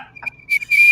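A shrill whistle blows in short, sharp blasts at a college football game, piercing and up close, with breathy noise on the last long blast and a brief murmur at the start.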